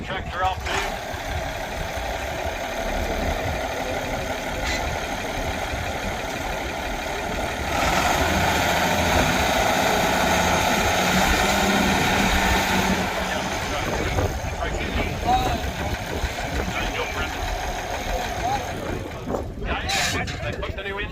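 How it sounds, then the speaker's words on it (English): An International Harvester 1066 tractor with a newly installed engine runs steadily at a vintage farm auction, a loud continuous rumble that swells midway, with people talking over it throughout. "She's gonna fire this tractor off to you."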